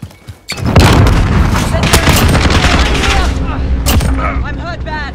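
Grenade blast and sustained gunfire in a Call of Duty: Modern Warfare multiplayer match, a loud boom followed by dense overlapping rifle shots and chatter of automatic fire, with soldier voices shouting over the battle.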